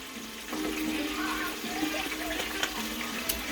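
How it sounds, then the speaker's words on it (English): A kitchen tap runs steadily, a broad hiss of water filling a vessel while cooking fried chicken, moderately close and continuous with faint clinks, no talking over it. "So give me time to get me a little splash of water."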